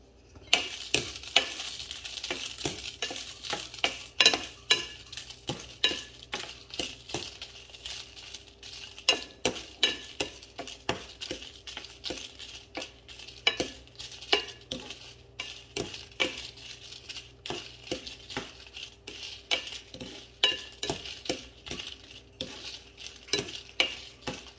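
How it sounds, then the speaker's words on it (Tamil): Dried chilies roast in a drop of sesame oil in a pan, stirred with a utensil that scrapes and clinks in irregular repeated strokes over a faint, quiet sizzle. "ஒரு சின்ன ஒரு துளி நல்லெண்ணெய் கொஞ்சம் விட்டுட்டு இந்த மிளகாயை கொஞ்சம் வறுத்து விட்டோம்"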